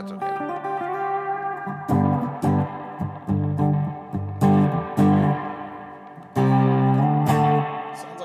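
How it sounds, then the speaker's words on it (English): Electric instrument played through an effects unit adding distortion during a live stream, choppy bursts of gritty, harmonically rich chords starting and stopping in an uneven rhythm with brief gaps between them. "Sounds like we're getting some like distortion there, yeah?"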